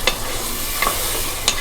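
Beef haleem mixture frying and being stirred in a pan, a loud continuous sizzle broken by a few brief scraping stirs, close up with no speech.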